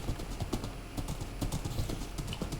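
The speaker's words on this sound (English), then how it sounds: "This horse is just like lightning." A horse in the Minecraft video game trots along in a quick, even clip-clop of hooves, each hit short and crisp, with no talking.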